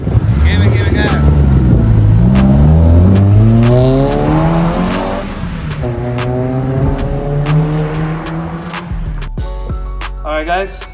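A Honda D16 engine revs repeatedly as gas is given, its pitch rising and falling in several sweeping pulls, loud and close, with a voice speaking over it.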